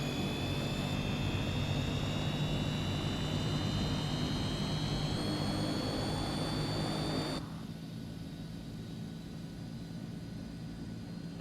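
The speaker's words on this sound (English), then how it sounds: "Both engines are turning." Both aircraft engines run in a flight simulator game, a steady droning hum with high whining tones that drops noticeably quieter about two-thirds of the way through.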